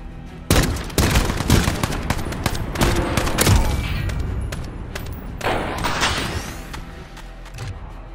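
Rapid gunfire from the video game Modern Warfare (2019) in Search and Destroy mode, with loud sharp bursts and single shots crowding the first few seconds, then a lull before another volley and a few scattered clicks and creaks.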